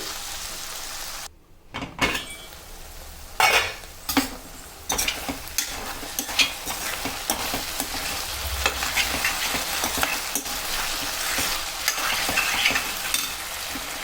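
Aloo capsicum curry cooking in a pan, a soft continuous sizzle broken by sharp clacks and knocks of a spoon or lid, close and moderately loud with no talking.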